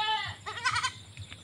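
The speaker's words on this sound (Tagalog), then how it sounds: "binitawan na po ng aking anak yung mga kambing sa goat house at diretso po niyan sila dito" Goats on a small goat farm bleat close by, released from the goat house: a wavering, harmonic cry rises and breaks up, followed by shorter overlapping bleats over a low background rumble.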